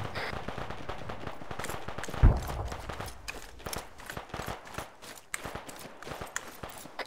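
Dense gunfire in an Arma 3 firefight, rapid automatic bursts and single shots crackling at mid distance, with one louder near blast early on and scattered shots continuing throughout.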